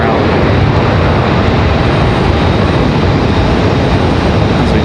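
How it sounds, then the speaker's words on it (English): A Boeing 777 airliner taxis toward the runway at Raleigh-Durham airport, its engines producing a loud, close, unbroken roar that stays even throughout. "As we check out the 777, heading out to the end of the runway here"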